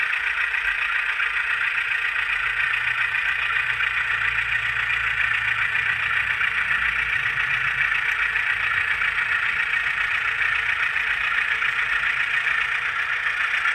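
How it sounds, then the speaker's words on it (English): A model railroad locomotive on a three-track interchange yard layout runs with a steady, continuous mechanical hum and whir, even and unbroken throughout, with no talking. "That engine runs nice, I've got to say."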